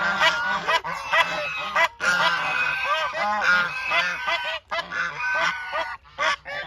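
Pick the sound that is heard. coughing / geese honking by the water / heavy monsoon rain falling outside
geese honking by the water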